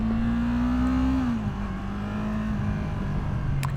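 A 2020 Yamaha MT-03 motorcycle's engine drones while riding on small roads near Malaga, Spain, a loud steady hum that dips slightly as revs drop, then holds even, close to the rider.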